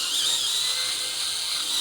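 A power drill whirs in a steady, high-pitched run, close and loud, as it drives bolts tight on a Fanatec Clubsport GT sim racing cockpit, with no talking.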